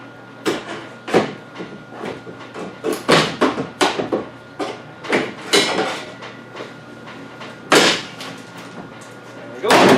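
Rear door handles are broken off a car that is being fitted with a bolt-in roll cage, giving a series of sharp cracking and snapping impacts in irregular bursts, close and loud.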